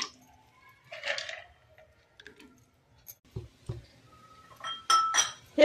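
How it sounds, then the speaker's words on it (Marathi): A handful of peanuts drops into a pan in a few scattered, crisp clicks and clinks, separated by near silence, with a busier cluster of rattles at the end. "थोडेसे शेंगदाणे टाकायचे"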